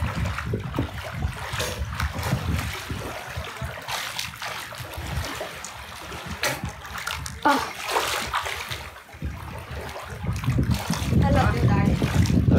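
Water splashes and sloshes continuously as a person swims outdoors, with irregular bursts of splashing throughout and voices talking in the background.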